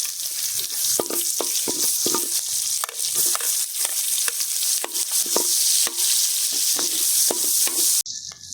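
Spicy pork and squid balls sauté in hot oil, giving a loud, steady sizzle broken by repeated sharp clacks of a utensil stirring against the pan, close up, with no voices.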